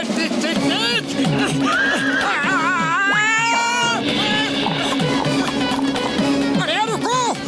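A cartoon horse pulling a taxi neighs and whinnies loudly in repeated rising and falling cries, close and prominent over busy animated background noise and voices.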